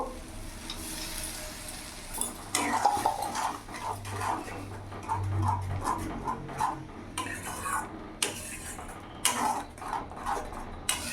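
Tomato paste being stirred into rohu fish curry in a pan over a medium flame, with repeated metallic scrapes and clinks of a spoon against the pan and a soft sizzle underneath, close and moderately quiet.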